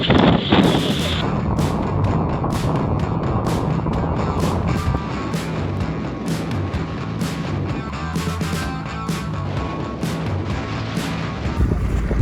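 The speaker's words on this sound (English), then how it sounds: "We've all been huddling here out of the wind" Strong Icelandic wind roars and buffets the microphone in heavy, continuous gusts, with sharp rattling bursts cutting through the blustery noise.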